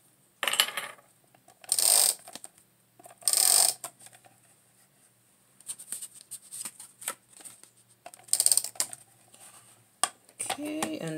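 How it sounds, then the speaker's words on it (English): A tape runner drawn across paper hearts for a handmade Valentine's card, several short ratcheting bursts of adhesive tape with pauses between, close and fairly crisp, with light paper handling and a voice briefly at the end. "I'm going to use my tape runner for this one"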